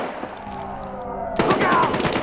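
Gunfire in the video game Battlefield Hardline, a sudden burst of rapid automatic shots erupting loud and close after a stretch of quieter tonal background sound.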